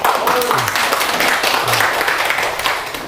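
Brief audience applause at a Korean saju fortune-telling study camp lecture, a short burst of clapping mixed with an overlapping voice.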